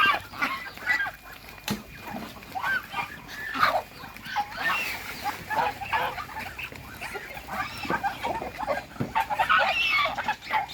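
Chickens cluck steadily across a grandmother's rural farm garden where ducks, geese and turkeys are also kept, a busy overlapping chorus of fowl calls with occasional other bird cries, heard without talk.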